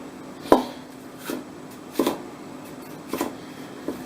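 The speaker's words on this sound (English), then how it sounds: "it's a matter of just cutting the right size on your little squares" A knife chops halved bell peppers into small squares on a cutting board: four or five distinct, crisp taps spaced about a second apart, close and fairly quiet.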